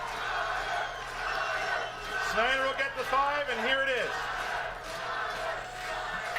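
Live audience at a New York Schmoedown event erupts in loud cheering and shouting partway through, swelling under and around a host's ongoing speech, then dying back down.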